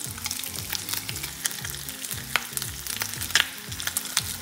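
Pancetta sizzles in a pan in its own rendering fat, a steady close crackle with scattered pops and a few stirring scrapes, no voices over it.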